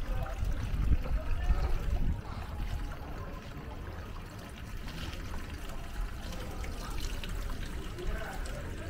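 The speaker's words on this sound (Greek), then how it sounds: "Αυτό είναι το νερό το γάργαρο που βγαίνει μέσα από τη" Gurgling spring water flows out in a village setting, a soft steady trickle and burble that stays faint, with low voices and ambient murmur mixed in at the start.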